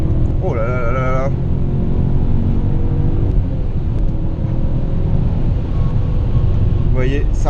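A BMW M5 E39 revs from inside the cabin, its strong, continuous engine roar rising in pitch across the run, with a man's excited exclamations heard briefly at the start and again at the end.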